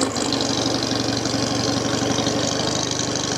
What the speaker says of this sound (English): Very sweet engine this.